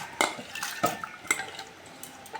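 Chana dal and large matar dal being rinsed with water in a bowl, a few close clinks and knocks of utensil against vessel with light swishing in between, no talk.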